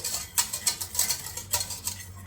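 A spoon stirs chocolate pudding mix and sugar in a pot, producing a close, rhythmic series of scraping swishes, about two per second, with no voices.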